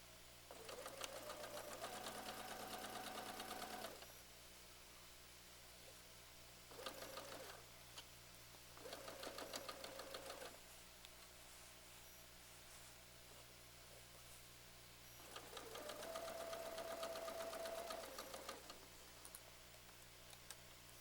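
A sewing machine stitches seams in quick, quiet bursts of rapid whirring, each lasting a few seconds with short pauses between, over a faint steady background hum.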